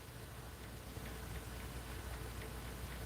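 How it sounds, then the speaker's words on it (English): Steady rain falls outside as a dense, even hiss with faint scattered patters, soft and continuous with no talk. "yeah, I can hear it raining now."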